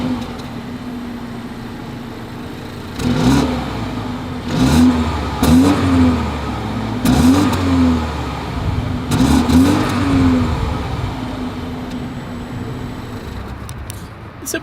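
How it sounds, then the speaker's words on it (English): A 2022 BMW X2 exhaust revs repeatedly, four or five sharp throttle blips rising over a steady idle rumble, loud and close. "As always, here is that exhaust clip."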